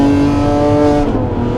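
A Lamborghini Aventador SVJ revs hard under acceleration, its engine a loud, sustained, harmonic roar that stays close and steady before easing slightly toward the end, with no talking.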